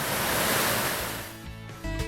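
Sea waves crash against cliffs and natural caves on the Lanzarote coast, a loud broad roar of surf that swells, then recedes into a churning wash with a fresh surge at the end.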